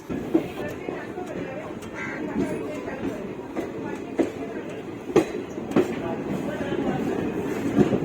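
Passenger train pulling into Jaisalmer station in Rajasthan, close and loud, with rumbling wheels and periodic clacks and knocks from the carriages, along with background voices.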